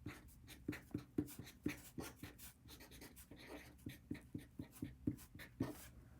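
Rhythmic scratching of a pen or marker on a writing surface as a matrix is written out, a steady run of short close strokes with faint breathing-like noise between.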